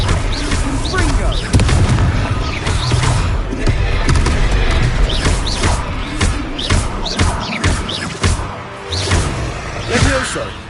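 Repeated booming spell blasts and impact thuds from the Confringo fire curse in a Harry Potter video game, landing in quick succession amid battle noise and a busy, loud mix, with voices speaking over the action.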